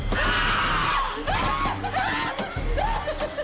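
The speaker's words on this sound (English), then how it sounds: "While some guests are having a scream, others are putting on a brave face." Several guests shriek and laugh together during a scary attraction, loud high-pitched screams rising and falling in bursts, mixed with giggling and some voices talking.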